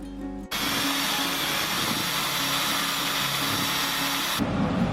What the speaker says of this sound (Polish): Ja używam wkrętarki do tego, bo będzie szybciej.